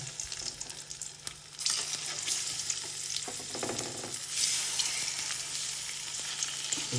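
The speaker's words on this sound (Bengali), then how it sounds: "তেলটা মোটামুটি গরম হয়ে গেছে এই যে দেখতে পাচ্ছেন আমি মাছগুলো দিয়ে দিচ্ছি" Surma fish pieces hiss and crackle as they go into hot oil, a continuous close sizzle with bursts of louder spitting as each piece lands.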